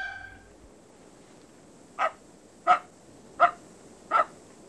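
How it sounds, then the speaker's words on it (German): A dog barks four times at a steady pace, each bark short and moderately close, with a quiet background between barks in a village setting. "Manchmal ging ein Hund vorbei."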